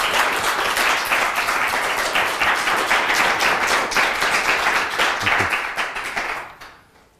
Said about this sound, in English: please do join me in a round of applause for Mr.